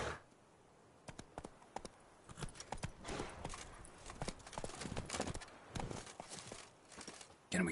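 Horse hooves clip-clop at a walking pace in The Witcher 3 on PS5, a steady run of quiet, close hoofbeats with small scuffs between them, fairly soft overall.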